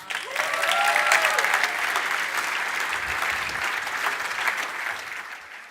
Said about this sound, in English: Please give him a massive round of applause, David Pollard.